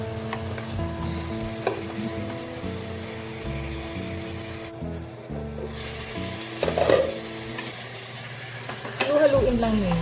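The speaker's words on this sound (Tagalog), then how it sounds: "Haluin lang niya." Chicken tinola soup with coconut milk is stirred in a pot, a soft continuous scraping and bubbling sizzle with occasional utensil knocks, under a voice talking.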